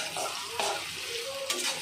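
Onions fry lightly in a pan, giving a quiet, steady sizzle with a few soft stirring scrapes and no talking.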